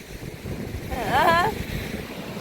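Wind at a beach rumbles and buffets the microphone steadily in a low, gusty roar, with a brief voice-like call rising over it midway.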